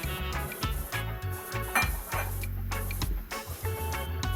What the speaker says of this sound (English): You gotta give it some stir and stir, because sometimes it goes and sits at the bottom of the pot